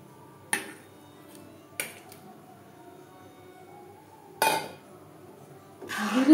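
A spoon clinks against a pot while stirring chhana into milk, three or four sharp separate metallic taps over a quiet background, ending in a louder rustling scrape.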